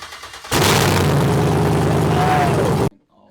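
Chevrolet L86 6.2-litre V8 mounted on an engine stand fires up and runs rough and loud for about two seconds, then cuts off abruptly into quiet.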